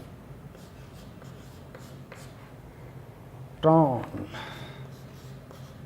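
A teacher writes a name on a board during a class 12 physics lecture, with short scratchy strokes sounding close under his continuous speech.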